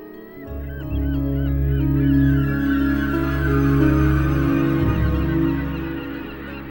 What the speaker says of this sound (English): collectively provide the world's largest breeding colony of gannets